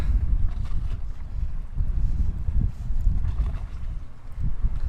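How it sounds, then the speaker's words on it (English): Strong gale-force wind on the shore of the River Humber roaring constantly against the microphone, loud and close throughout with no letup. "it's blowing a gale in my face"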